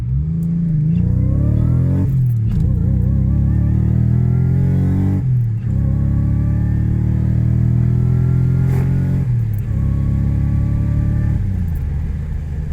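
Supercharged Subaru Legacy engine accelerating hard on its first drive, with loud rising revs through several gear changes, each pull climbing in pitch before a brief dip and another surge.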